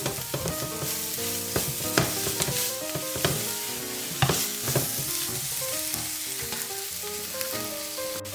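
Black pepper, garlic powder and chilies fry in a pan with a steady close sizzle, broken by the scrape and clatter of stirring, and no talking.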